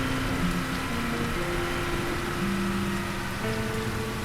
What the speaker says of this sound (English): The rain effects on this game are so cool.